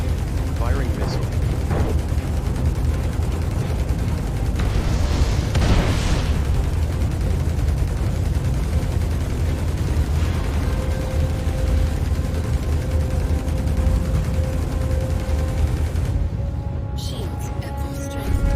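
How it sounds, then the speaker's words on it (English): A ship in Star Citizen launches a missile that then explodes, heard as a whooshing burst and a blast above a steady engine hum, with a few mechanical clicks. "Firing missile."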